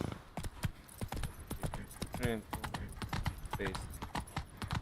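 Hooves of the horse Roach gallop in The Witcher 3, a rapid, steady clip-clop rhythm that runs throughout under someone talking.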